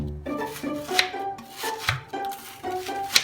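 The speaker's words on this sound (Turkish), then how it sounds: "Onları da şimdi iyice doğrayacağız." Kitchen knife chops red peppers on a board in quick uneven strokes, sharp close knocks over a faint background with no talking.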